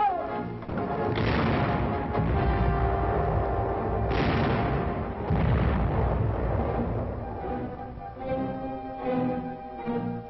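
Artillery guns firing in a World War II combat film of the 6th Infantry Division in the Pacific: several heavy booming blasts spaced a few seconds apart, each rolling out under a swelling orchestral score.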